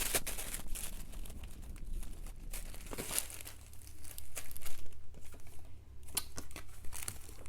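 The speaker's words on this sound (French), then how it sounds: "Et du coup, je déballe le t-shirt enfin." Plastic packaging crinkles and tears as a t-shirt is unwrapped, a close, continuous rustling with sharper crackles and rips spread across the whole stretch, no talk.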